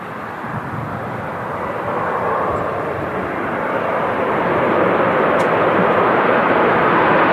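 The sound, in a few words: Malta Air (Ryanair subsidiary) airplane landing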